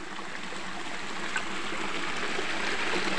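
A waterfall on a river running through a village, giving a steady, close, broadband rush of falling water that holds even throughout with no voices over it.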